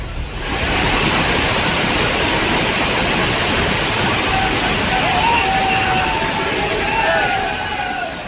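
Waterfall at Bhadaiya Kund in Shivpuri, swollen with rain, makes a loud, steady roar of rushing water that fills the scene without a break, with faint voices blending into the background.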